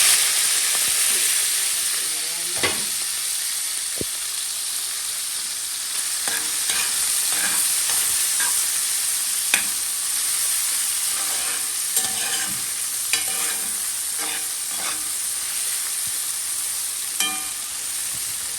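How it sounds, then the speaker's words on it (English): Saltfish with onion, garlic, scallion, thyme and pepper frying in a pot for ackee, a loud, steady hiss and sizzle broken by repeated stirring knocks and scrapes, close up, with no speech. "everything I fry out, you know, the saltfish, the onion, the garlic, the scallion, the thyme, the pepper"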